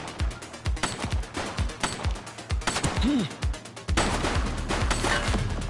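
Rapid gunshots crack in bursts, loud and close, mixed with shouting voices and a brief siren-like rise, then a denser, harsher stretch of noise.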